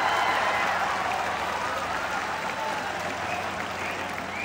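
Students in an intermediate college audience at a freshers' event applaud during a motivational speech: dense, steady clapping from a large crowd that fills the room for several seconds, with faint crowd noise mixed in.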